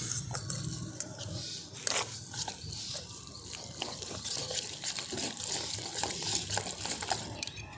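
Water is poured into a bowl of yogurt and stirred in a home kitchen, giving a faint, continuous liquid swishing with small clinks from the bowl.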